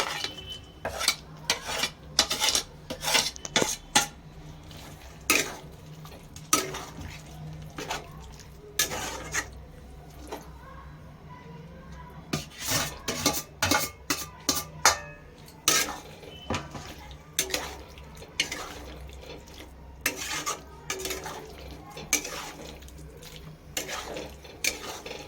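Soybean chunks dropped into a pan of veg korma and stirred, with repeated close scraping and clattering of a utensil against the pan in bursts, plus a low steady hum underneath.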